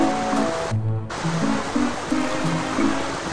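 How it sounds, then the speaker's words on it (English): A small waterfall in the video game Paper Mario 64 gives a steady rushing wash of water, with the game's music notes playing over it and a short quieter dip partway through. "And look, a little waterfall."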